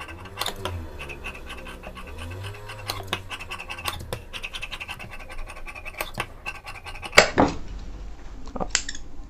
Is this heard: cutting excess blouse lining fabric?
yes